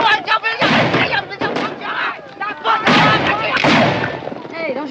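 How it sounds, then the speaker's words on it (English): Gunfire and booming shots ring out during a wagon-train fight in a 1950 western film, loud dense bursts mixed with shouting voices and chaotic battle noise throughout. "Hey, don't shoot across the wagons. You might hit one of our own men."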